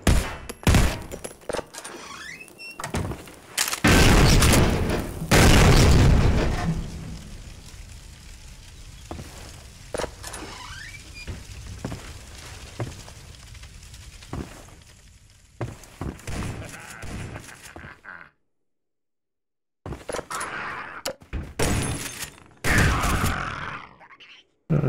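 Exploding barrels in Half-Life 2 go off under gunfire: a dense, chaotic run of loud shots and heavy blasts, some thudding and close, with brief pauses and one short silence before the shooting resumes.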